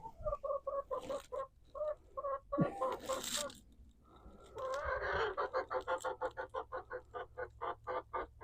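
Chickens cluck in a quick, steady run of short, close calls that grows busier toward the end, with some quieter scratching and rustling before it.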